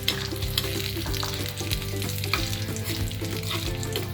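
Spices tempering in hot coconut oil for Kerala beetroot pachadi, a dense, loud crackling sizzle with continuous popping and spluttering, close up and without any talk.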